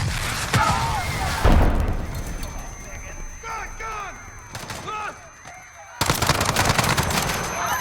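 Video game battle in Call of Duty Modern Warfare on a Piccadilly street: loud bursts of gunfire and heavy impacts mixed with shouted voices, a sudden drop to near quiet, then another sharp blast of noisy chaos.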